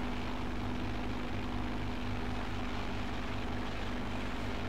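A small propeller airplane drones steadily in flight over St Maarten, a continuous engine hum with a constant pitch and a buzzing propeller tone, loud and close throughout with no speech.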